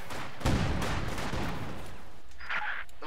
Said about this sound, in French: Un canon anti-char nous attaque.